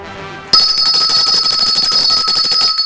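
A bright bell on a live café broadcast rings out loudly after a brief quiet start, its sustained ringing tone holding steady and close for the rest of the moment with no talking.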